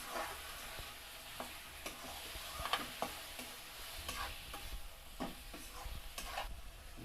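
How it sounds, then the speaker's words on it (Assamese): Local chicken curry being stirred in a pan as it fries, with a steady close sizzle broken by repeated scraping and clinking strokes of the spoon. "এতিয়া এইখিনি অলপমান লাৰি দিওঁ।"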